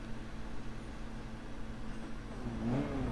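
Engine of a SEAT race car in Forza Motorsport 3 at Tsukuba, a steady mid-pitched drone that swells into a louder rising rev near the end, with no talking over it.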